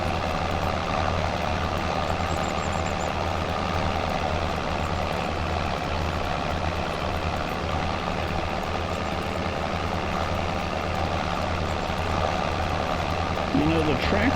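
A tractor engine in Farming Simulator 25 drones steadily with a low, constant idling hum throughout, while someone talks over it.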